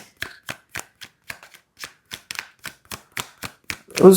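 Tarot card decks being handled, a quick series of about a dozen crisp, separate card snaps and taps at an uneven pace, close up in a quiet room, ending in a louder rustling burst.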